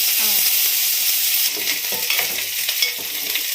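Spices tempering in hot oil for a tamarind-leaf dish, a loud, steady sizzle and crackle close by, with stirring scrapes in the pan throughout and no talk.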